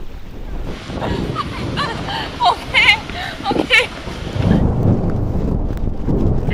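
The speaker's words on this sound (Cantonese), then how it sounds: "又大風又盛，真係搞唔掂" Strong wind buffets a swaying suspension bridge on the Torres del Paine W Trek in Chilean Patagonia, a loud steady roar and microphone rumble running throughout, with people exclaiming and talking over it.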